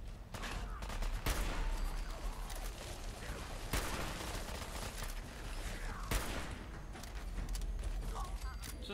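Hunting rifle gunfire in a video game, a dense run of sharp shots and bursts over steady background game noise and a voice, several louder cracks standing out at intervals.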